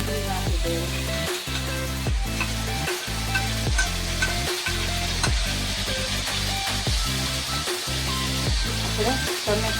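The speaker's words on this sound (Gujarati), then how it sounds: "લસણ થઈ ગયું. હવે આપણે ડુંગળી નાખી દઈએ." Onion goes into frying garlic in a pan, a loud steady sizzle running throughout alongside a repeating low tonal hum that cuts off briefly at regular intervals.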